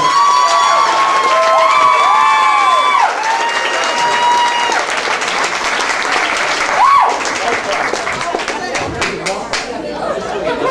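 Comedy-club audience claps and cheers for a comedian in a loud, dense wave of applause, with whoops and crowd chatter mixed in and a host's voice talking over it.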